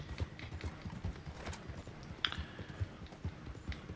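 Horse hooves clip-clop in a steady walking rhythm in Red Dead Redemption 2, close and moderately loud, with a brief metallic clink partway through and no speech.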